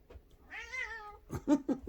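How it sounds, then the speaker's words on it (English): A cat gives a long, drawn-out meow up close, followed by a few shorter, chirpy meows in quick succession. "Sorry if you heard my cat."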